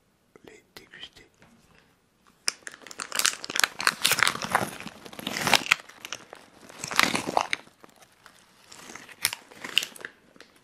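Wasabi peas are crunched and chewed close to the mic in an intimate setting, with sharp crisp bites and crackling chews after a quiet start, accompanied by soft whispered speech.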